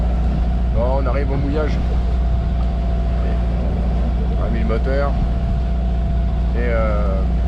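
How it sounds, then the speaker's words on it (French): A sailboat's auxiliary motor runs as the boat motors into an anchorage off a beach, a steady low drone throughout while someone speaks over it in short bursts. "On arrive au mouillage. On a mis le moteur."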